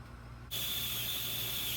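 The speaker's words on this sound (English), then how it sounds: "Now here you see it venting steam." Steam from a pressure canner on a stove, cooking chicken bone broth, starts abruptly to a steady, loud hiss with a thin whistling edge that continues to the end over a faint background hum.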